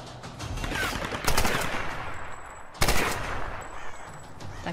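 Gunfire in the Tomb Raider video game: rapid bursts of shots with two sharp, loud volleys standing out above a continuous rattling background of fire.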